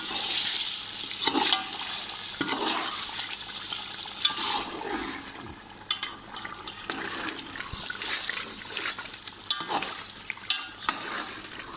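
Qorma being stirred in a pot right after two cups of milk go in, with wet scraping and sloshing strokes and soft sizzling, close and moderately loud, no talking.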